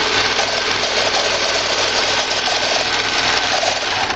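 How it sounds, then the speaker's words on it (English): A serger stitches and trims fabric for reusable snack bags, giving a steady, fast mechanical whir with a buzzing hum that holds constant and close throughout. "we're going to make sure our serger is where it would cut the fabric"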